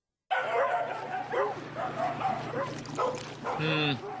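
A dog barks and yips repeatedly in quick, loud, close bursts, ending in a higher whining yelp, with a steady low hum underneath.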